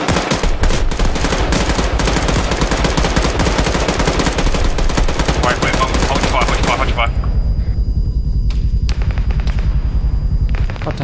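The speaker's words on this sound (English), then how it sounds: "He's shooting at me now." Enemy soldier's gunfire in Arma 3, a loud, sustained rattle of rapid automatic shots crackling nonstop for several seconds before cutting to sparse, distant pops with a steady high whine behind.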